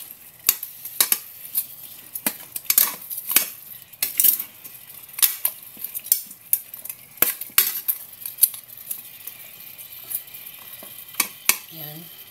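A metal utensil stirs chicken in a pan, clinking and scraping in irregular bursts over a soft background sizzle, the sharp knocks coming one after another at close range.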